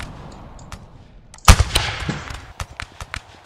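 A sharp, loud musket shot in the video game Rise of Liberty, set in the Battle of Lexington, cracks out close, then scattered distant shots pop across the field.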